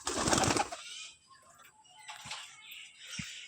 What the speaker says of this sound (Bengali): তো আমাদের সব পায়রাগুলো বেরিয়ে গেছে